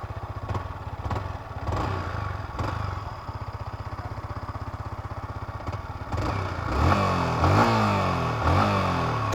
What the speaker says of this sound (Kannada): ಇದ್ರದ್ದು ಎಕ್ಸಾಸ್ಟ್ ನೋಟ್ ಕೇಳೋಣ ಬನ್ನಿ ಇವಾಗ ಒಂದ್ಸರಿ.